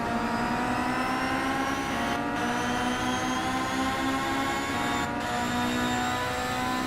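Touring race cars from the Simraceway sim-racing game run at Laguna Seca in a WTCC-style championship race, their engines whining loud and close with rising harmonic tones and brief gear-shift dips, with no commentary.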